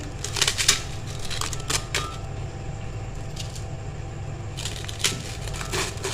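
Dry rusks (papa) snapped and crumbled by hand into a blender jug for rabri kheer, a run of crisp cracking bursts near the start and again toward the end, over a steady low room hum with no talking.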